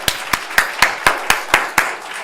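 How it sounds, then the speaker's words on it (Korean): A congregation at a New Year's Eve church service claps in slow unison, nine sharp, evenly spaced collective claps that ring out loudly in the sanctuary with no voices over them. "형통의 하나님께 영광의 박수 올려드립니다"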